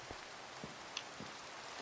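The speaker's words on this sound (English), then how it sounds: "And it's raining. It's very loud." Rain falling in the Minecraft video game, a faint steady patter with occasional soft drop taps, quiet and unbroken.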